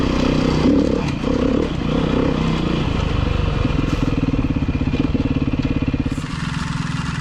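A Beta 390 RR-S four-stroke dirt bike works over rough, technical off-road terrain, its engine droning close and loud with rhythmic pulsing and revving, mixed with clattering and scraping from rocks and the chassis.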